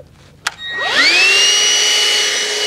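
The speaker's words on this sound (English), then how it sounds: "I'm gonna go ahead and run the vacuum on this other one before we start." A vacuum cleaner is run on an electrical conduit with a little mud in it. After a sharp click the motor winds up to a loud, steady, close whine that holds to the end.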